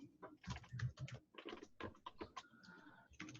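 Close, quick typing on a computer keyboard, with irregular bursts of clicking keystrokes that continue steadily throughout.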